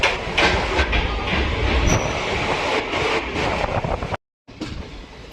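Monsoon-season passenger train on the Konkan Railway pulling into a station, heard from inside: steady loud rumble and wheel clatter with faint squeals, then a sudden brief silence before the noise returns.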